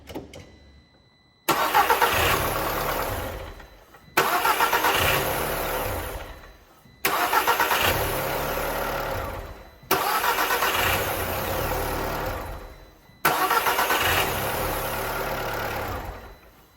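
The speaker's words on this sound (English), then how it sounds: "We're just ready to give it a crank now." A 2008 VW Polo Mk5 engine cranks and catches five times in a row after a starter motor replacement, each start rising to a loud, rough idle before cutting off, with brief pauses between.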